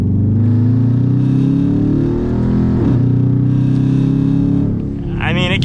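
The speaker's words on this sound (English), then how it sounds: "That's full throttle and, really no power around that RPM." A Dodge Charger R/T V8 under full throttle gives a close, loud, droning engine rumble whose pitch climbs only slowly and sags briefly near the end.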